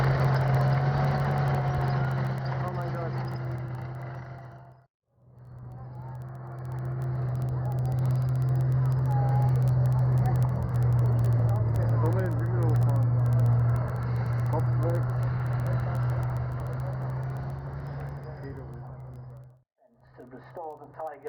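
Engine of the WWII Tiger tank 131 at Tankfest 2013, Bovington, running steadily with a deep, loud rumble while driving, rising in revs after a gear change, with two brief drops in level.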